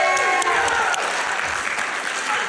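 Dense applause and cheering from a live crowd at a summer speedrunning charity marathon, sustained and loud throughout with no pauses.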